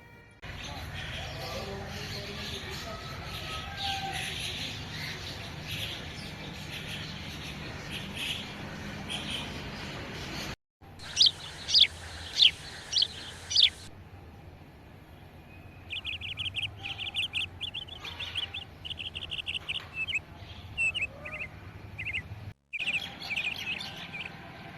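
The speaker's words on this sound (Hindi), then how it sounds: "आप बस चिड़ियों का शोरगुल सुनिए।" Many small birds chirping and twittering around a terrace garden at about 4 am, sharp repeated calls in bursts over a quiet background, some louder and nearer, with brief breaks in the sound.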